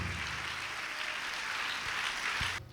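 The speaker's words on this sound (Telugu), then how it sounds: "చప్పట్లు కొట్టి దేవుడు మహిమపరుద్దాం" A church congregation claps together during worship, a dense, steady wash of many hands at close range that holds unbroken for a few seconds before cutting off abruptly.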